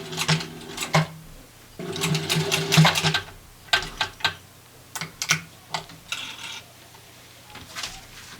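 A home sewing machine stitches T-shirt fabric into a glove, running in close, buzzing bursts of rapid stitching separated by pauses, with a few shorter runs toward the end.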